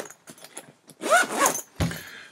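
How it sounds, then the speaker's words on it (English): Close, crisp zipper pulls on the zippered pocket of a laptop bag, a few short raspy runs of the slider with brief pauses between them, no voices. "that is the zippered pocket for the iPhone and for the earbuds"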